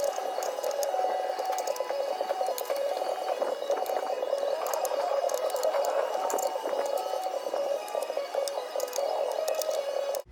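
A hand ratchet loosens skid plate bolts under a Jeep Wrangler YJ, clicking in a fast, steady train for about ten seconds, close up and with no voices.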